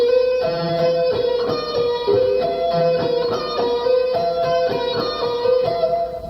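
An electric guitar lick played slowly with barring and pull-offs, a clear, close sequence of separate picked and pulled notes in an even, deliberate rhythm, heard alone.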